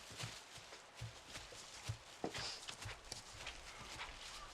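Horse hooves clip-clop in an irregular walking rhythm amid outdoor background noise, fairly close, with some shuffling and movement around them.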